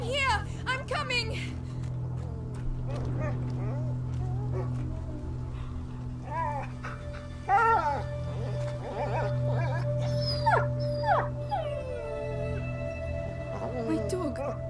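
A dog whimpers and howls in the video game A Plague Tale: Innocence, its rising whines and plaintive cries standing out over a low steady drone, with other voices calling and talking around it.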